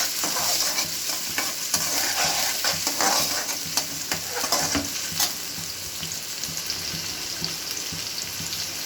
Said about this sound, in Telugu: ఆనియన్ కొంచెం ఫ్రై కావాలి.